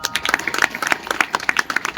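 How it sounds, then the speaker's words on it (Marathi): An audience claps at a kirtan performance, a dense patter of many hands striking close together in uneven bursts for a couple of seconds, with no speech over it. "प्रेस एकदा टाळ्या वाजवा, जोरात टाळ्या वाजवा"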